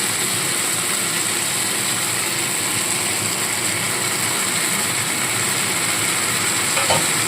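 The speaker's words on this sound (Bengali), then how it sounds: "এবার এর মধ্যে বেটে রাখা আদা রসুন পেঁয়াজ আর জিরে বাটাটা দিয়ে দেবো একসাথে" Ginger, garlic, onion and cumin paste frying in a pan over softened onion and tomato, a steady close sizzle with a continuous bright hiss, and a faint clink near the end.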